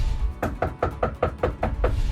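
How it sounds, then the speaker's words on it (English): Knocking on a door, a rapid series of about eight sharp, evenly spaced raps, close and fairly loud. "reporter Paris Flanagan knocks on the door of the woman accused of shooting the Opelousas police chief and his wife"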